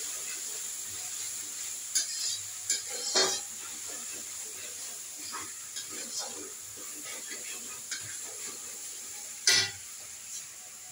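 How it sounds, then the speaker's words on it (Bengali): Ginger frying in a pan gives a steady, quiet sizzle with occasional clinks and scrapes of stirring, while a person talks over it. "আদাটা একটু ভালো করে ভেজে নেব"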